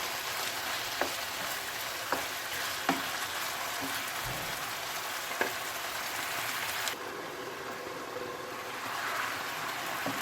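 Beef liver cooks in a covered pan, giving a dense, steady sizzle and bubbling with a few light clicks, then turning slightly quieter and softer partway through.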